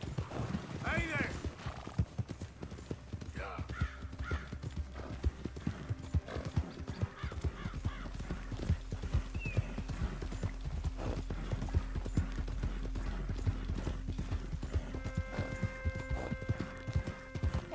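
Horse hooves clip-clop steadily through the whole stretch in Red Dead Redemption, a rhythmic trot under game music, with a brief whinny near the start and a voice speaking over it.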